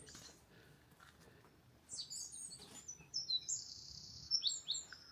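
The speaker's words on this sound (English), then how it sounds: "That's the wren." A wren sings a bright, rapid run of high trills and chirps, fairly close, over quiet background noise.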